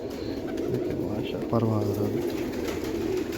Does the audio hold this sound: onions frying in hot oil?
no